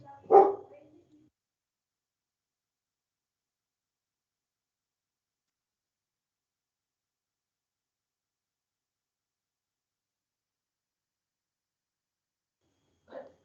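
A small female dog barks once nearby, a short sharp yap, followed by a long silence and a faint second bark at the very end, during a virtual rural extension course session.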